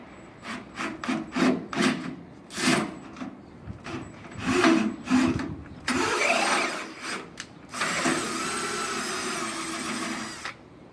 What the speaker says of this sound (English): Tapping the A-frame holes is a must.